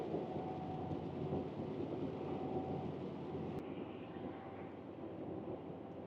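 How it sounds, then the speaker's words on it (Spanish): Rain drumming steadily on a truck cab on the Munich-to-Stuttgart autobahn, a dense continuous wash of patter mixed with the low road rumble of the moving vehicle, no voices. "Otra vez llueve."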